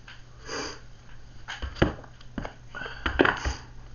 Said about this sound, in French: Je renifle.